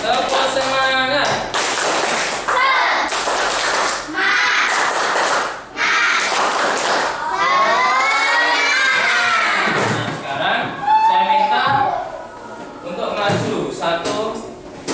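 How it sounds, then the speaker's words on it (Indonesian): Schoolchildren chant and clap together in a classroom rhythm game, their voices loud and close, with bursts of shouting and scattered claps mixed through the group's rhythmic chanting. "sekarang kita akan melakukan tepuk semangat"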